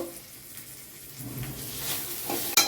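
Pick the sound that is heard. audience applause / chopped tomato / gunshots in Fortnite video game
chopped tomato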